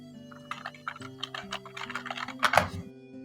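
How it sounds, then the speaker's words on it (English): Keyboard typing in a visual novel, heard as a quick irregular run of close, crisp key clicks with one denser burst near the end, over a steady low musical drone. "what are you typing?"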